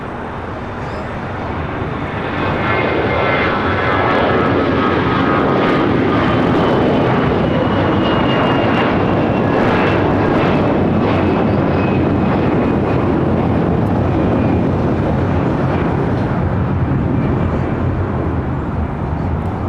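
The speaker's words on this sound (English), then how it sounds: "792 taking off to Toronto on an A321 in the Star Alliance livery." Jet engines roar as an Air Canada Airbus A321 in Star Alliance livery takes off at LAX, the noise building sharply after a couple of seconds into a loud, continuous thrust with faint whining tones, no voices present.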